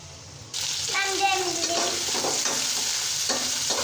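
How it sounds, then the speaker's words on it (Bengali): Onions frying in oil while being stirred to brown them for a tilapia dish, a loud continuous sizzle that swells as the stirring begins, with scraping from the utensil in the pan and a faint voice in the background. "তো এখন আমি পেঁয়াজগুলো আমি বাদামি করে ভেজে নিব"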